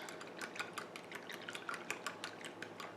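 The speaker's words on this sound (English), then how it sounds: "Now I'm just going to take a whisk and lightly whisk it." Milk, eggs and extract being lightly whisked in a bowl for snickerdoodle cupcake batter, giving a steady run of quick, soft wet clicks and patters, fairly faint and close, with no talking.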